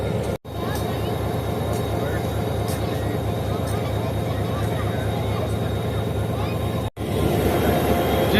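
The Marvi Passenger train pulls into Chhor railway station on a Thar Desert branch line, giving a loud, steady rumble with faint rhythmic clacks that runs throughout and cuts out briefly twice.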